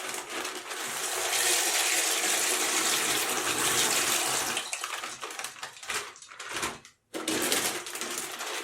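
Four litres of water poured from a tap into a pot for boiling macaroni, a loud continuous rushing splash that thins and breaks up near the end, then briefly resumes.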